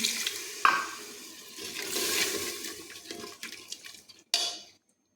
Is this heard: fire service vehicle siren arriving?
no